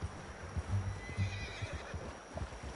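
A horse in the video game Red Dead Redemption 2 gives a low, throaty whinny and snorts nearby, with soft hoof clops underneath.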